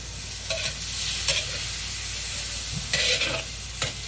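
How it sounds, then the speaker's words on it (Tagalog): Chicken sizzles steadily in a hot pan, with occasional scraping and stirring strokes breaking through the constant frying crackle. "pinirito ko muna yung manok"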